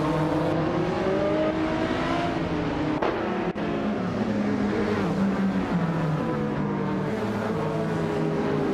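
Engines of race cars in a racing video game roar continuously at high revs, with layered whining tones shifting pitch as cars jostle for position, loud and steady throughout.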